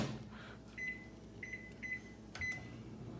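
Several short electronic beeps from a kitchen timer sound at uneven intervals over a low background hum, fairly faint.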